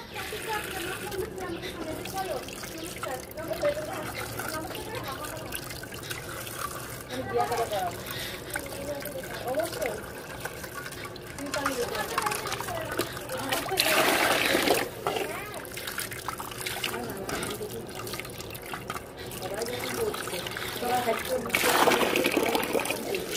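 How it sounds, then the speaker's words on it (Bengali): Eggs washed clean under water, with trickling and splashing that runs throughout, swelling into louder gushes at moments, close up with faint handling sounds. "এই ডিমটাকে আগে ভালো করে জল দিয়ে ধুয়ে পরিষ্কার করে নেব।"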